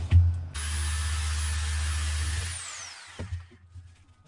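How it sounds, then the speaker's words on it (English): A power drill backs screws out of the wooden aft deck of a Tahiti gaff cutter, with one close, loud, steady whine of about two seconds that winds down, framed by brief knocks and handling sounds. "We gotta take some more screws out."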